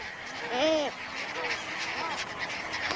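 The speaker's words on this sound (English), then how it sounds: "The most spectacular of them are the great black-headed gulls." Great black-headed gulls call from a colony on Jemchuzhny, a sandy Caspian Sea island, a few loud, raucous honking cries rising over a constant busy chatter of more distant birds.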